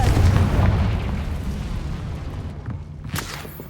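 A Confringo blast in Hogwarts Legacy lands as a loud, booming explosion that rolls off into a fading rumble, then a brief sharp crack near the end.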